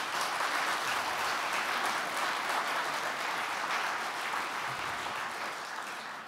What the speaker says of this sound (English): A warm applause for Danny,